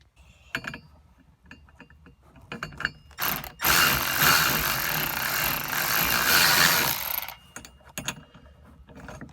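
Ratchet wrench tightening bolts on a roof rack bracket of a 2018 Jeep Wrangler Unlimited JK Rubicon, heard as several short clicking bursts before and after one long, loud continuous stretch of rapid ratcheting in the middle, close up.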